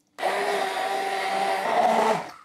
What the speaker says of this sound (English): using a hand blender, I'm going to be mixing everything together